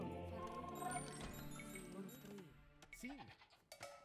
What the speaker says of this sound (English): What is that sheep doing?